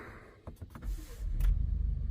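A 2026 Ford Expedition Platinum 4x4 cranks with a few short clicks, then its engine catches and swells into a deep, close rumble that holds steady at idle.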